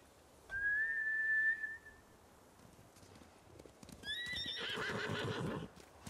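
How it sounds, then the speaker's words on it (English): Samurai horses whinny in the Ghost of Tsushima video game: one drawn-out neigh early, then a second burst of neighing with shuffling hooves and movement, fairly close and clear against a quiet background. "Bastards scared off the horses."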